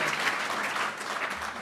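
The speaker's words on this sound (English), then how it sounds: "just a big round of applause for our guests tonight." An audience at a social media club event applauds its guests, a short burst of steady dense clapping throughout, fairly distant and even.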